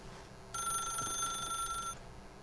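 A telephone in the video game The Stanley Parable rings with a steady, bright electronic trill that lasts about a second and a half over a quiet room tone, close and clear with no voices.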